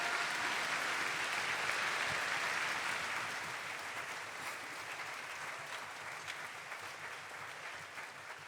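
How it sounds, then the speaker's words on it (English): Sustained audience applause fills a high school Veterans Day assembly, a dense, steady clatter of many hands that stays loud for about three seconds, then eases to a slightly softer, continuing clapping to the end. "Let's give Mr. Gandy a huge round of applause, everybody"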